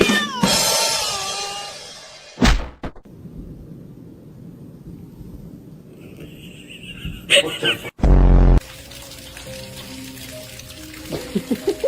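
A house cat meows several times up close with wavering, strained cries at the start, then sharp noises and scattered later sounds break through while people talk.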